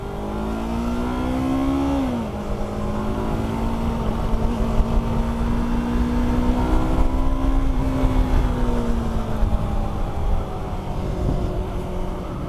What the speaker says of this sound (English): this bike you gotta ride in the higher RPMs